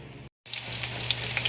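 Cooking oil sizzling in a hot pan while preparing adobong sitaw, a steady close frying hiss with small crackles, heard alone after a brief silence.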